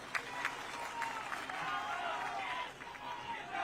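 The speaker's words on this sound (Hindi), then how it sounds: "एक बार तालियों से स्वागत करें।" Crowd at a large political rally clapping to welcome the deputy chief minister, a faint, distant patter of applause mixed with murmuring voices and a speaker's amplified voice.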